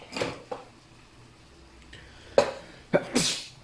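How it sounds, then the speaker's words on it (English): A sharp sneeze bursts out amid a few soft clinks and rustles, followed by another quick sneeze near the end. "he sneezed in his elbow"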